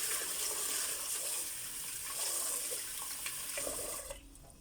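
Water runs steadily from a tap over rice being rinsed in a rice-cooker pot, a continuous close splashing wash that stops abruptly near the end.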